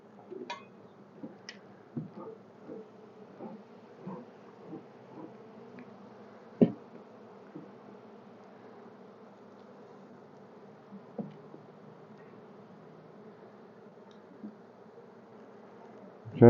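Honeybees drone steadily at an open hive during an inspection of its condition and honey stores, a soft continuous buzz with occasional close passes and light clicks and knocks, no talking.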